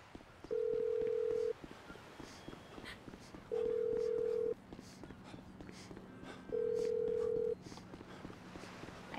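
An outgoing phone call in the GTA 5 video game, three evenly spaced ringback tones about two seconds apart over a faint game background, with quiet clicks and no voices.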